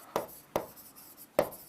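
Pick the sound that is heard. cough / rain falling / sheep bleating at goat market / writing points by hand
writing points by hand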